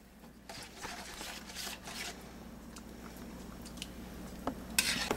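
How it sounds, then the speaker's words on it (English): Scraping and soft clinks of a utensil stirring food in a small pot on a stove, quiet and close, with faint rustles and a brief brighter clatter near the end. "I'll stir this up, bring it to a boil"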